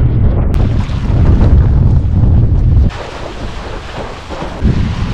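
Strong wind roars across the microphone while windsurfing on open water near a harbour, a loud continuous rushing buffet that drops in level partway through, with the wash of water beneath and no voices.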